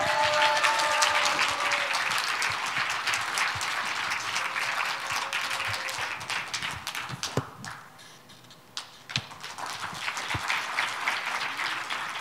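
Loud applause from a large crowd welcoming a speech by former lawmaker Park Chan-jong, dense clapping that dips briefly midway then swells again with scattered sharp claps, recorded outdoors with some distance.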